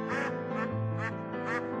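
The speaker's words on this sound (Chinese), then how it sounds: "大兴，赶快帮我把鸭子赶回家" Ducks quack close by in a series of rapid, nasal calls, several overlapping in quick succession, loud and clear with no voices.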